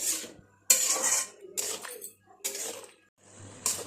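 A metal spoon scrapes and clinks against a cooking pan as turmeric is stirred in, coming in four distinct bursts of close scraping separated by short pauses, with no voices.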